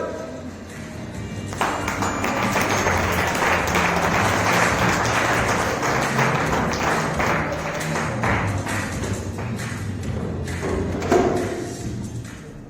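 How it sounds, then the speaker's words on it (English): Audience applause at an English three-act stage play, a dense steady wash of clapping from a crowd that swells and holds for over ten seconds, with a few louder thumps near the end. "Let us give a round of applause to our brothers for the wonderful performance"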